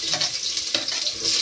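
Pufferfish (butete) simmers in a tamarind sinigang with ginger, onion and lemongrass in a pot over a wood fire, giving a steady close sizzling and bubbling hiss.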